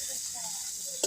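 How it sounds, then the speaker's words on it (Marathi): Tomatoes tossed in with browned onion and sautéed in a pan over a wood-fired stove, a soft steady sizzle close by, ending in a single sharp knock of a utensil. "आता टमाटर टाकते. छान परतून घेते."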